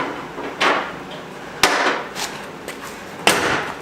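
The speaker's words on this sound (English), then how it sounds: "I'm gonna close this hood actually." A Mustang's hood is slammed shut in a garage, heard as several sharp metallic thuds with short ringing tails, spaced apart, close and fairly loud with no talk.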